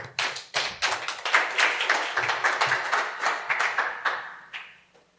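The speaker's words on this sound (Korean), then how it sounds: "박수 주세요" An audience claps in rhythm at a church youth gathering, a lively run of sharp, even claps that fade out toward the end.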